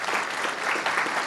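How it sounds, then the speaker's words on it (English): A brief burst of dense clapping from a convention audience at a retro gaming expo talk in Blackpool, even and sustained through the short stretch with no voices on top. "I just wanted to give him a round of applause"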